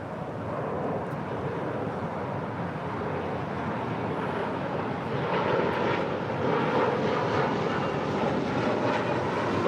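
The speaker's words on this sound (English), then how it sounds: "Gulfstream G 650 is departing to Coeur d'Alene" A Gulfstream G650 business jet departs from LAX, its engine roar a steady broadband rush that swells gradually over about ten seconds, heard from a moderate distance with no voices.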